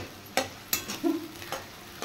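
Onions fry in hot oil, a soft sizzle under a few sharp spatula scrapes and stirring knocks over two seconds.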